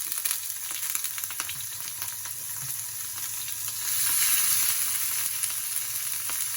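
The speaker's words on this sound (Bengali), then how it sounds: "আমি সেই জন্য পেটিগুলো ভেজে নিই" Fish belly pieces fry in hot oil, giving a steady, close crackling sizzle that swells a little louder midway and runs on alone without any voices.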